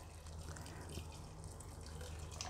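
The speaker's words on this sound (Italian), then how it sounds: "quindi ho aggiunto un altro litro di acqua" Water poured into a cooking pot of Tatar azu stew with prunes and potatoes, a steady close splashing pour with a faint clink partway through.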